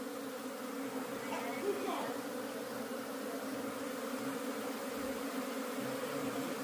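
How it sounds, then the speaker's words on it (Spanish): A swarm of honeybees buzzes in a steady, dense drone close by, continuous throughout, with faint voices in the background. "Son bonitas las abejas."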